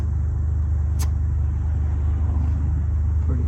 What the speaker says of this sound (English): Pretty traffic today.